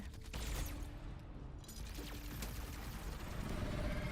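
Dense, continuous rattling video game gunfire mixed with mechanical clatter fills the whole stretch, loud and busy with no voices.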